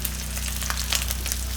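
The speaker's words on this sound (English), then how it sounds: "that's about the sizzle we want right there" Steak sears in a hot pan with a steady, close, broadband sizzle and crackle, brief pops rising over the continuous hiss; no one talks.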